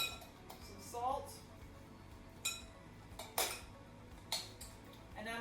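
Lime juice, oil and salt being mixed in a bowl, with several faint, scattered clinks of a utensil against the dish over a quiet, steady background hum.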